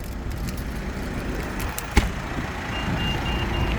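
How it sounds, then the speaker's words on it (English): A 2019 Mitsubishi Pajero Sport GLS 4x4 engine idles steadily while a high, faint key-warning beep chimes repeatedly in the background; a single sharp knock is heard midway. "that's just beeping to let us know that I do have the keys in my pocket"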